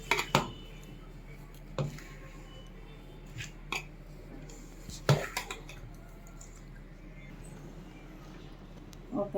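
A spoon stirs a Pongal dish in a pot, giving sparse, sharp metallic clinks and scrapes at irregular intervals over a quiet kitchen background.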